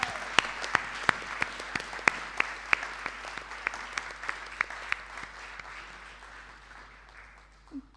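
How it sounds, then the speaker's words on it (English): Audience at a school performance poetry night giving a standing ovation, steady applause with sharp individual claps over the crowd that gradually fades out. "let's have a loud standing ovation for all of them"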